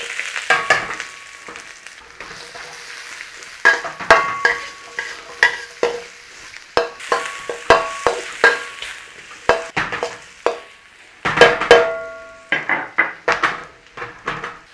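Garlic and onions stir-fry in a wok, loud sizzling under rapid, rhythmic metal spatula scrapes and clanks that come in close bursts throughout.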